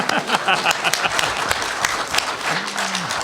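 Audience members at a 2012 Boston Comic Con panel applaud, a sharp close burst of clapping with distinct individual claps, briefly overlapped by a voice near the end.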